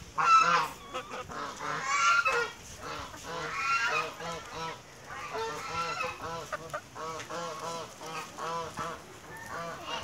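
A duck at a poultry farm keeps calling, its nasal honking quacks coming in quick repeated bursts at close range over about ten seconds, mixed with other fowl noise.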